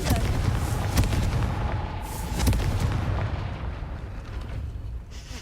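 The Confringo blasting spell explodes in Hogwarts Legacy, a loud booming burst with sharp cracks that rumbles for a few seconds and slowly fades, heard alone.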